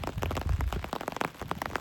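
Rain falls steadily outdoors during a walk, a dense close patter of drops filling the whole short stretch with no talking.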